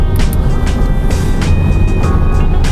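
A Honda Jazz engine under deep throttle in Eco mode, heard from inside the car as a loud, steady droning hum that rises slowly with no sharp change, with a faint whine over it.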